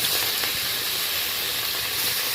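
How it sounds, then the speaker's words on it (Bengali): Pieces of kuche eel fish fry in hot oil in a wok, giving a steady, dense sizzling hiss that holds even and close throughout with no voices. "দেখুন এইভাবে অল্প অল্প করে পুরো মাছটাই আমি ভেজে নেব"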